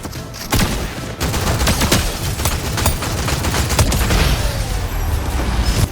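Rapid bursts of assault rifle fire from the Eradicator Hop Rock Fury in Fortnite Reload, loud and near, with sharp repeated cracks over a dense rumble of battle noise throughout.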